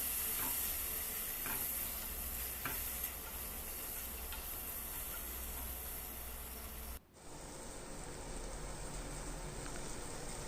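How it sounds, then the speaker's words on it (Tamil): Chopped tomatoes with salt sauté in a pan for beetroot kurma, a steady hissing sizzle with occasional spatula scrapes, a brief dip in the sound near the end before the frying continues evenly. "இதில் நம்ம கட் பண்ணி வச்சுருக்க தக்காளி பழத்தையும் சேர்த்துட்டு உப்பு போட்டு நல்லா வதக்கி விட்டுக்கலாம்."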